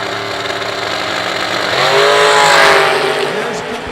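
Top fuel and pro dragsters launching side by side at the IHRA World Finals drag strip, a loud sustained engine roar that builds and peaks midway, with an announcer talking over it.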